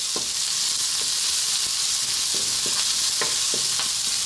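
Onion and garlic frying in a pan for pork sausage fried rice, a steady loud sizzle with repeated sharp clinks of a utensil stirring against the pan, close and without talk.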